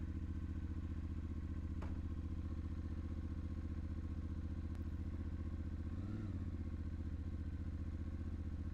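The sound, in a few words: 2025 Ibex 450 motorcycle engine running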